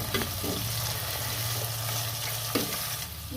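Garlic and tomatoes sauté in hot oil for rasam, with a steady crackling sizzle over a low constant hum and a few sharper stirring scrapes.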